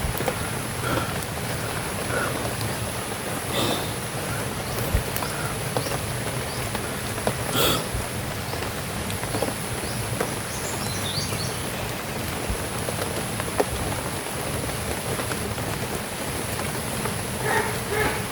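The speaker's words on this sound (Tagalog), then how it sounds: "Lakas ang ulan" Heavy rain comes down in a constant wash of noise, with a few sharper drops and faint insect or bird calls in the background. No one speaks.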